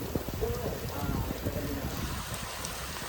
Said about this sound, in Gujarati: વરસાદ થઈ ગયો ચાલુ.